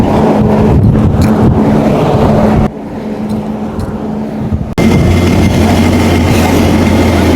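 A rescue boat's engine runs loud and steady at a low throttle, with a low mechanical drone and broadband rumble that dips briefly midway before returning at full level.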